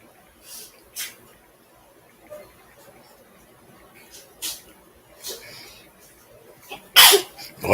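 Several short, sharp sneezes burst out at intervals against a quiet room, with the loudest coming near the end, with faint murmuring talk between them.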